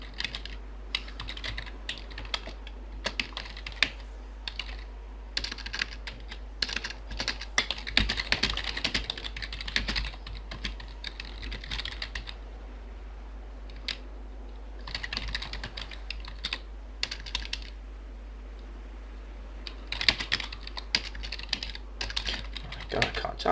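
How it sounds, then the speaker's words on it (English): Computer keyboard typing comes in rapid, uneven bursts of soft clicks with short pauses, close and quiet over a steady low hum, as someone types chat messages during a game of Xsyon. "God, I can't type."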